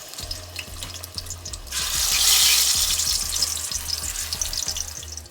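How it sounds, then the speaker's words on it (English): Plantain slices frying in oil in a pan, a loud bright sizzle that swells up and stays dense over a low repeated knocking hum. "Just gonna go ahead and fry the plantain."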